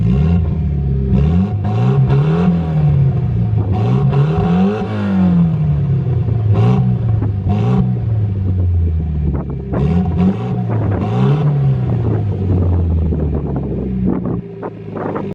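Mitsubishi Evo X with its exhaust removed, engine revving up and down repeatedly in loud rising and falling sweeps, close by, with wind buffeting the microphone.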